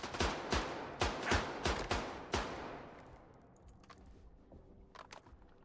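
STALKER 2 gunfire rings out as about seven sharp, loud shots in quick succession with echoing tails, then fades to quieter rustling and a few faint clicks.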